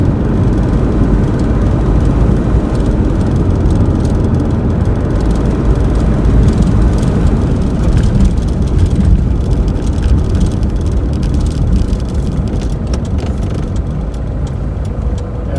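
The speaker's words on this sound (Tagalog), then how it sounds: "marami na sasakyan. Kasi pangalawang uwian ito" Rush-hour road traffic with many vehicles, a dense continuous roar of cars, trucks and buses passing close by, loud and unbroken throughout with no clear talk.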